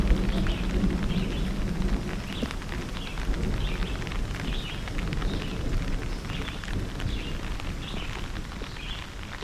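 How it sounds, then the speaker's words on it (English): Steady rain pours down outside a forest at a high-elevation thunderstorm campsite, a dense continuous hiss with no distinct thunder. Faint chirps sit above it. "So out here, it's actually raining pretty good."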